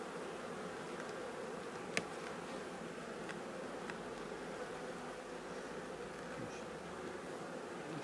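Honeybees buzz steadily around an open hive during an inspection of a nucleus box's frames, a continuous low insect drone with a single sharp click near the two-second mark.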